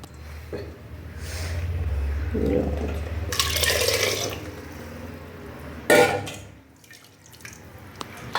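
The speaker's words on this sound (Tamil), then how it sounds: "இப்போ தண்ணியெல்லாம் ஊற்றிக்கலாம் உள்ள" Water splashes and trickles as it is poured into a pot of spinach kulambu (keerai curry) in a kitchen, with a clatter partway through and a low steady hum underneath.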